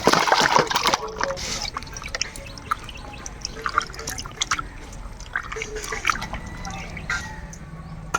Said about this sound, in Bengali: আমরা এই মাথাগুলো এখন ধুই